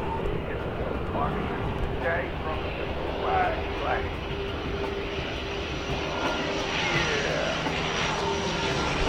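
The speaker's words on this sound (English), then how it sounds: "a plane just came over and dropped this thing here" An airplane flies over in the VR shooter Blast World during a team free-for-all match. Its engine makes a steady, loud drone that holds for the whole stretch while a person talks over it.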